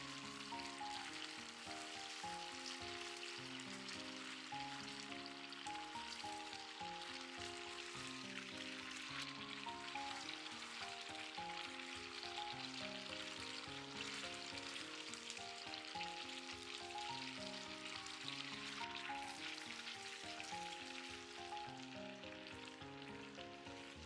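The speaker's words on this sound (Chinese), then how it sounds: "煎豆腐全程開大火煎，這樣才容易起脆殼。" Tofu sizzling and crackling steadily in hot oil in a pan over high heat, a dense, even frying hiss that runs unbroken throughout.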